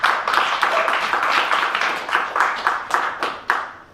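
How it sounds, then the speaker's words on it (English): A small audience at a cooking demonstration claps loosely and unevenly. Scattered bursts of hand claps swell and ebb before trailing off into a few last isolated claps. "I need a round of applause again, guys."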